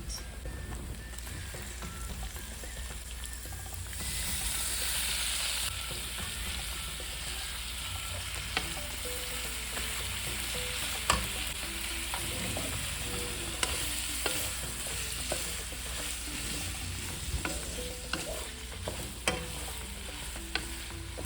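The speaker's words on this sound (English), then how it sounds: "once the onion and the garlic is finished cooking, then we can add the meat" Meat fries in a pan with onion and garlic, a steady soft sizzle with occasional stirring scrapes and small pops, heard alone for about twenty seconds.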